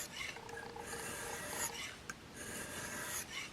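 A Magnus Bullhead blade being sharpened on a 2000 grit stone, repeated raspy strokes of steel rubbing across the stone in a steady back-and-forth rhythm, close and fairly quiet, with no talking.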